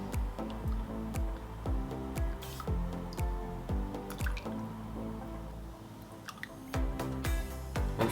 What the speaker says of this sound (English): to serve, we're just going to ladle into the bowl